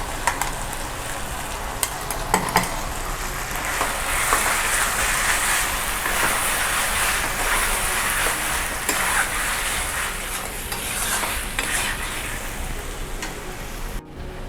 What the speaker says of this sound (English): Now it's time to add the masala that we made, and we will fry it along with our chicken.